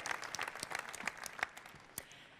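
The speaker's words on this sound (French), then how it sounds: "je voudrais qu'on prenne quelques secondes pour applaudir à nouveau Renan et Dylan" A short burst of audience applause for Renan and Dylan at a business presentation, dense scattered clapping with a few sharper claps standing out, no voices.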